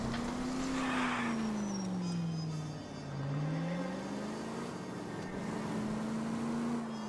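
A car in L.A. Noire is driven recklessly, with its engine whining and rising and falling in pitch as it swerves. A faint tire squeal sits underneath, continuous and fairly quiet.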